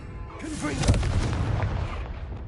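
A Confringo blasting spell cast in the video game Hogwarts Legacy goes off as one sudden booming burst, followed by a rumbling, crackling tail that fills the rest of the moment.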